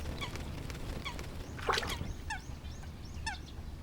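Eurasian coots call at a large lotus pond in spring, sharp nasal honks and clucks scattered across a few seconds at moderate distance over steady outdoor background.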